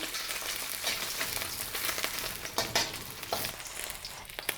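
Mutton fat heating in oil in a pan for dumba karahi, a continuous close sizzle with scattered sharp pops and crackles and no talking.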